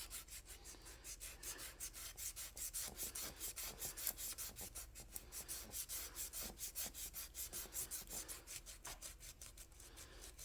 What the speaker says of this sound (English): We're literally just sanding this flat.